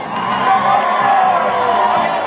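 A roller derby crowd cheers for Sugartown, a sustained loud roar of shouting and whooping voices that swells and holds for a couple of seconds.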